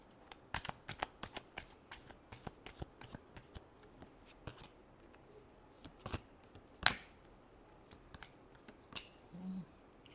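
Tarot cards are shuffled close by in a quick series of crisp riffles and flicks, ending in one sharper snap and then a few soft taps, with no voice.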